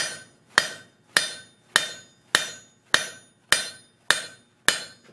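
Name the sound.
hammer forging hot metal, driving out bevels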